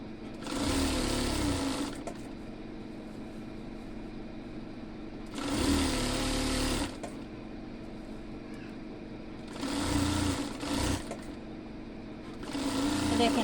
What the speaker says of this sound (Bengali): আমরা কোনো টানাটানি করবো না একদম স্বাভাবিক মতো সেলাই দিয়ে যাবো